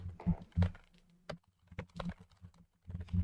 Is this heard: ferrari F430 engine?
no